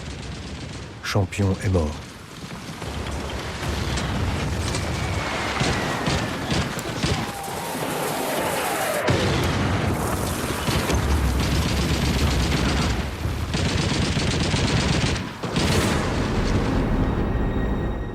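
Battle gunfire at Verdun in a reenactment, with rapid rifle and machine-gun bursts, heavy explosions and a steady roar of combat, loud and sustained, while voices speak over it.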